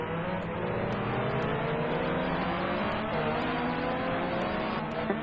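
Porsche and Aston Martin GT race cars battling at Fuji during a 10-hour endurance race, their engines droning loud and steady at high revs with shifting pitch as they run close together; no talking.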